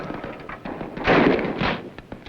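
BB guns firing on an outdoor shooting range, a cluster of sharp cracks and thumps over a noisy background with one louder burst near the middle.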